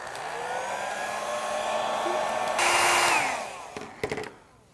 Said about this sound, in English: Now I'm just going to take my hair dryer and dry that up.